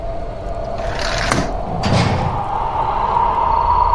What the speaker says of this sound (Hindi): खिड़कियां और दरवाजे अपने आप बंद हो गए